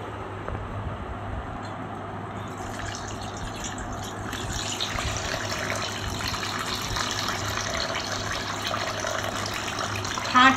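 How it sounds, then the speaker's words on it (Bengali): Fresh lemon juice from local lemons being strained, a steady trickling, splashing stream of liquid that continues throughout at moderate loudness, with no talking. "রসটা আমি প্রথমে ভালো করে ছেঁকে নেব"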